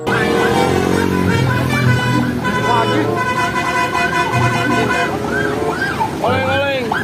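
An Indonesian telolet bus horn plays loud, melodic, warbling tones continuously and close, with several rising and falling phrases layered over busy background noise.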